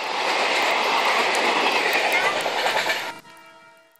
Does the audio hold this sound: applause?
no